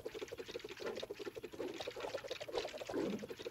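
Thick syrup pouring from the Syrup Slinger emote in the Fortnite video game, a soft, steady liquid glugging and splashing that runs alone for a few seconds.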